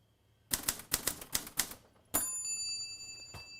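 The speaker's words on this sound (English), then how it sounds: "over here we have our typewriter. Of course, we've got to use a typewriter for the Leroy Anderson." A typewriter played as a percussion instrument for a Leroy Anderson piece gives a close burst of about six sharp rhythmic key strikes, then the carriage bell and a longer ringing slide.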